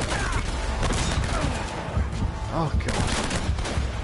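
Dense, continuous gunfire, including shotgun blasts, in the game Uncharted: Drake's Fortune, with shots overlapping throughout while a player exclaims over the top.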